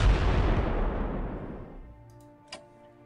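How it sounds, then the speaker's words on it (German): An artillery shot in Strategic Command: World War 1 lands as a single loud, heavy boom that rolls away over about two seconds, followed by a small sharp click near the end. "Ich schieße nochmal drauf, um die Moral unten zu halten."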